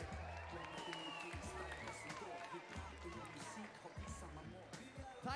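Applause and cheering from an awards gala crowd, a dense wash of clapping and whoops under heavy thumping club music, with a voice over a microphone speaking on top.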